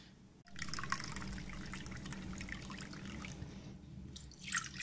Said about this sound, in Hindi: ये 1 कप के करीब इसमें पानी जाएगा